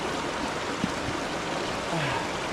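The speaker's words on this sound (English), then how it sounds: "let's go get some water from the river and boil up a tea." A river flowing past a campsite near hidden waterfalls, a steady broadband rush of moving water that stays even and close throughout.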